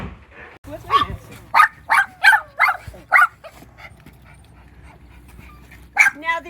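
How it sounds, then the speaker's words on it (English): Small dogs bark in sharp bursts and pant inside an enclosed dog pen at a farm property in Three Rivers, California, a run of loud yaps clustered early, then a pause and one more bark near the end. "There is an enclosed dog pen out here, and my little pups are having a fit."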